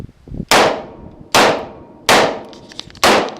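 Four sharp, loud gunshots from an Uberti Cattleman El Patron replica Colt Single Action Army revolver at a shooting range, spaced evenly about a second apart, each with a short ringing decay.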